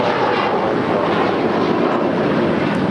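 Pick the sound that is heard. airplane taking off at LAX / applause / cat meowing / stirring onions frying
airplane taking off at LAX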